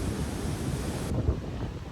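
Waterfall in the Cumbrian countryside in winter, heard as a steady broadband rush of falling water mixed with wind buffeting the microphone, continuous and fairly loud with no voices.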